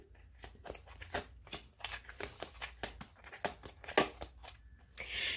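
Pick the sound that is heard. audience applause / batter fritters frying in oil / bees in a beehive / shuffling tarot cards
shuffling tarot cards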